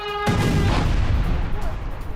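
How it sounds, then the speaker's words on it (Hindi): A heavy explosion from an attack on a port city erupts suddenly after a brief tonal lead-in, then rolls on as a thick, rumbling roar with no let-up. "हमलों से पोर्ट सिटी के कई इलाकों में धमाके"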